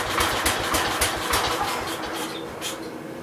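A Cub Cadet 126 lawn tractor engine runs at a steady fast putter, close and loud, with a continuous rhythmic chugging throughout.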